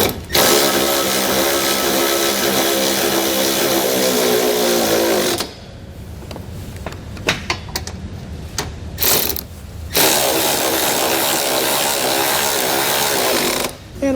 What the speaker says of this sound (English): we're now ready to come back on our passenger side and tighten everything down. We're going to be using an 18mm socket.